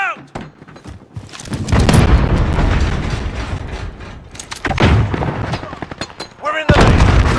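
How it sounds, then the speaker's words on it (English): Grenade explosion in a multiplayer shooter video game, a heavy booming blast with rumbling aftermath amid mechanical clatter and game noise, with voices briefly heard. "Grenade out!"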